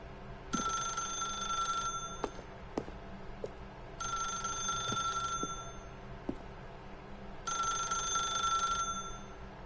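A telephone rings in The Stanley Parable video game, three bright electronic bursts about two seconds apart separated by short gaps, with faint clicks and thumps underneath and no voices.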